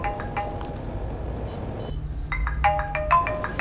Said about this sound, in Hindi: तेरे फोन से कॉल है यार।